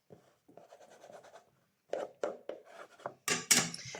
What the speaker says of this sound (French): on appuie de nouveau avec son puisoir en os